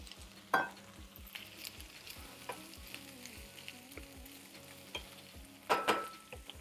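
Potatoes frying with onions in a pan for German fried potatoes, a steady sizzle broken by regular scraping stir strokes and a couple of sharper clatters, close and without speech.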